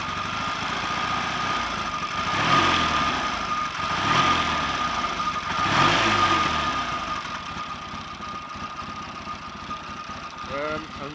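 A Triumph T140 motorcycle engine with ignition faults runs steadily at close range, a rumbling idle with periodic surges roughly every couple of seconds, loud and continuous throughout.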